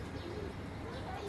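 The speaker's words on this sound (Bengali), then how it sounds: "এরকম কবুতর আমি এই প্রথম দেখলাম।" An unusually large pigeon coos softly nearby, a faint low murmuring call lasting only a moment against quiet background noise.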